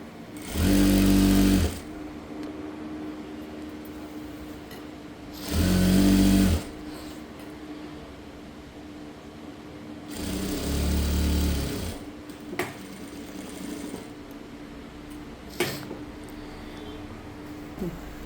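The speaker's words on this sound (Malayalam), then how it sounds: "എന്നിട്ട് ഇവിടെ സ്റ്റിച്ച് ചെയ്യുക കണ്ടോ" A sewing machine stitching churidar pants, running in three separate bursts of steady whirring with quiet pauses and small handling sounds between them, close and clear with no talk over it.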